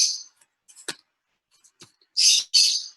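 A pet bird chirps inside a home, giving a few sharp high calls and clicks, then two louder squawking bursts near the end, with silence between.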